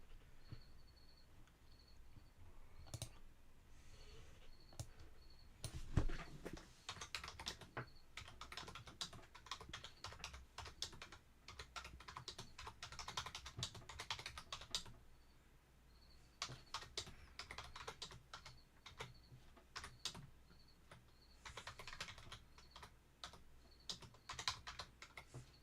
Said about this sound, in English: Hopefully I don't run out of characters here on trying to type this.